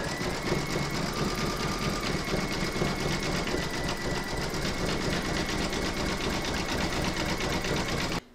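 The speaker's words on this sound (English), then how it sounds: "you're now going to stitch round number six, and that's going to do the satin stitching around the toes and around to here." An embroidery sewing machine satin stitches around baby-feet appliqué toes. A dense, fast, even mechanical buzz of needle strokes runs steadily and close for about eight seconds before cutting off. No voices.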